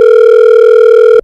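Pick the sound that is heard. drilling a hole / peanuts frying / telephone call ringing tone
telephone call ringing tone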